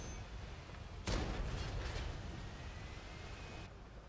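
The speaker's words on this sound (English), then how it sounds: "Oh, there was a small gun hitting us." A single small tank gun firing in World of Tanks, one sharp broadband blast with a short rumbling tail, mid-distance and fairly quiet against a low steady background.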